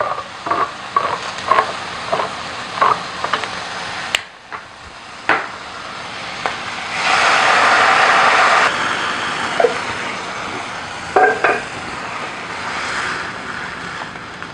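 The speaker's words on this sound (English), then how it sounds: "I'm going to add a can of coconut milk. That ginger just popped everywhere." A can of coconut milk poured into a hot pan with popping ginger: scattered sharp spits and clicks, then a loud, steady hiss of sizzling liquid lasting a couple of seconds, followed by quieter crackles, close by with no talk.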